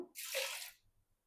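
A quiet, brief splash of water poured from a cup into a pot for sambar, lasting about half a second before trailing off into faint drips.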